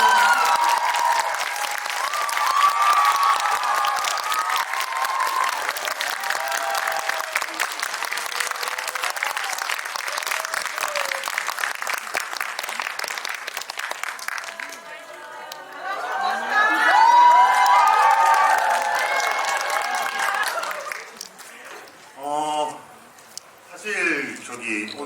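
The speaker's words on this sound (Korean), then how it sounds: "힘찬 박수 부탁드립니다." Audience in a Megabox Coex cinema hall claps steadily to welcome the writers, director and actor of the film Rebound, with a dense, sustained roar of hands that swells again midway, under crowd chatter before tapering off.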